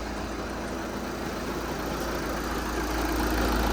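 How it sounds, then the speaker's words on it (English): Volkswagen SportWagen TDI turbo diesel engine idling after a start, salvaged from an auction: a steady, even low rumble with a constant hum, close and unchanging throughout, with no voices. "She runs, guys. She runs. I'll let it warm up a little bit."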